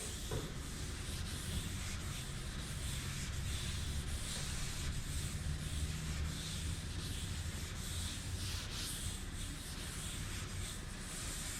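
Wet sanding a car dashboard prepped to 320 grit with soapy water, a continuous close rubbing hiss that holds steady without breaks for the whole stretch.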